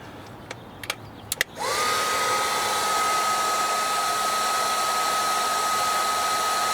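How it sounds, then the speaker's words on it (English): A heat gun blowing hot air to warm the mounting tape of a Viofo A229 Plus dashcam in a Lexus UX; a few soft clicks, then the gun switches on with a steady, close, whining blower hiss that continues to the end. "I will use a heat gun to slightly warm up the tape."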